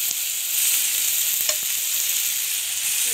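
Potatoes and onions fry in a pan with a bright, steady sizzle close by, and a few soft stirring clicks sound over it; no one talks.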